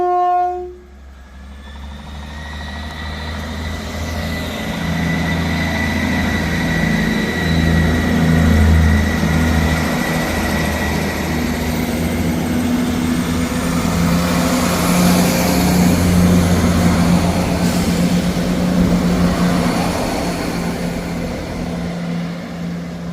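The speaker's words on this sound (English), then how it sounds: "Departing out now is the 1308 ScotRail service from Dundee to Edinburgh" A ScotRail train departs Ladybank station bound for Edinburgh, its engine drone and wheel rumble building into a steady loud roar that holds for some twenty seconds before easing slightly, with no voices.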